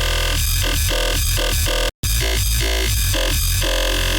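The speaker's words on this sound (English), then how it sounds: "This is a growl that sort of I tend to do a lot" Signature growl bass synth preset from Bass Forge, pulsing in about eight rhythmic wobbling bursts with a dense, buzzy harmonic snarl, loud and alone, broken by one brief dropout midway.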